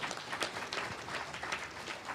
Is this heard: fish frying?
no